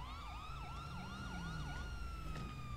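A police car siren in a roleplay video game wails in a repeating yelp-like sweep, rising and falling several times before settling into a long steady tone, loud and close with no talking.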